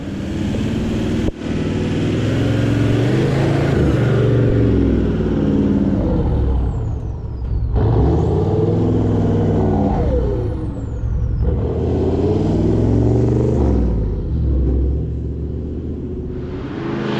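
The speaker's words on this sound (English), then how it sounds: "I'll just warm her up for a little bit because we're pretty much going full throttle as soon as we hit that sand." A vehicle engine idles and warms up close by before heading onto sand, a steady low rumble broken by a couple of brief hissing releases, continuous throughout.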